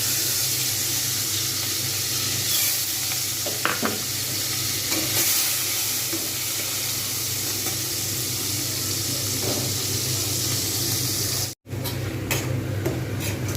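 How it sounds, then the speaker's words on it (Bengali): Grated onion fries in a pan, giving a steady loud sizzle with occasional stirring scrapes throughout, and a brief dropout near the end. "আমি সেই পেঁয়াজটাকে ভালো করে ভেজে নেব"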